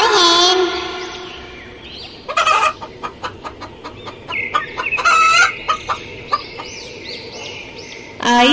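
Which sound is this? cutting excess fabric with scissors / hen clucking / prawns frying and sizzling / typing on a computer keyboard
hen clucking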